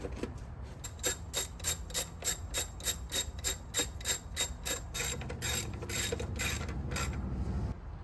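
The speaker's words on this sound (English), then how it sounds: "And then we're just gonna lightly snug this stud up" A ratchet lightly snugging a stud on a 100 Series Land Cruiser engine during timing belt work, giving a steady run of close, quick clicks with brief pauses, about twenty strokes in all.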